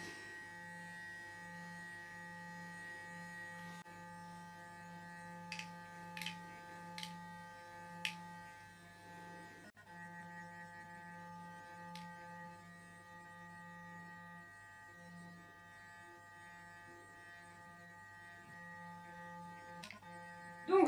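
A Clarisonic sonic foundation brush hums steadily at low pitch throughout, a faint, even buzz with a few soft clicks and taps from handling, no talking.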